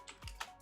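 Quick clicks of keys on a computer keyboard while CSS code is typed, with a few close, crisp taps and a soft thump, no voices.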